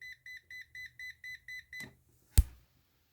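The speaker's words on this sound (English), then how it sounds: "You can hear the audible alarm and see the red light at the top left of the meter." A Milwaukee 2212-20 multimeter's voltage-sensing alarm gives a rapid series of eight short electronic beeps in a steady rhythm, followed by a click and a sharp knock, close and distinct.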